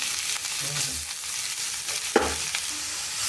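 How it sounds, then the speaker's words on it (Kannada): Grated carrot fries in ghee with a continuous soft sizzle and crackle, broken by a couple of spoon stirs and one sharp clink. "ಕ್ಯಾರೆಟ್ ಸರಿ ಪೂರ್ಣ ಹಸಿ ವಾಸನೆ ಹೋಗೋ ತನಕ ಹುರ್ಕೋಬೇಕು ಫ್ರೆಂಡ್ಸ್ ತುಪ್ಪದಲ್ಲಿ"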